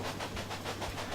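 A Tyson 10-wheeler locomotive runs in the Railway Empire game, a faint, steady rolling rumble with soft rhythmic clatter, short and distant-sounding.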